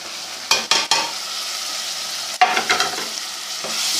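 Tomatoes frying with minced meat in a pan, stirred in two short bursts of sizzling and scraping with quieter steady frying between.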